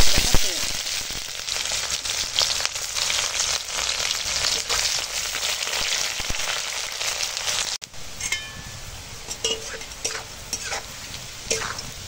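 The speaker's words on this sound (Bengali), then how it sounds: "দেখো পেঁয়াজটা ভাজા হয়ে গেছে।" Loud, continuous sizzling of onions frying in hot oil with scraping stirs, easing to a quieter crackle near the end.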